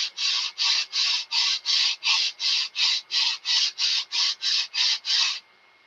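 A sanding block rubs back and forth along the edge of a Twin Sig Wonder model aircraft, fifteen even, rhythmic strokes close to the mic, then it stops.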